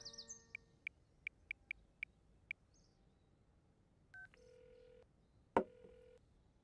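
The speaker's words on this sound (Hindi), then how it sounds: "एक मिनट, उसी को फोन करता हूँ।" A quick series of sharp keypad beeps as a number is dialed, followed by a steady electronic ringing tone.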